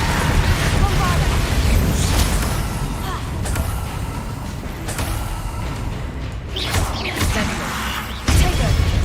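A Bombarda exploding spell goes off in a Harry Potter video game amid other spell effects. Booming blasts and rumbling bursts hit repeatedly, dense and loud, with a sharp surge near the end.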